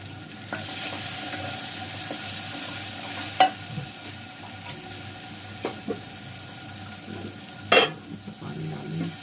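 Saag aloo sizzles steadily as it fries in a pan, with a spoon stirring and a few sharp scraping knocks against the metal.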